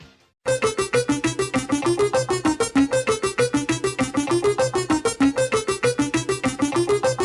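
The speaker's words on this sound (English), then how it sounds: "what you're hearing is commonly called the second generation board spinner" A rapid, even stream of bright electronic blips repeats in a quick rhythm, each pulse stepping through a looping pattern, loud and continuous.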